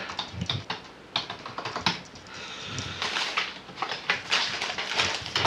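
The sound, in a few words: typing a part number on a computer keyboard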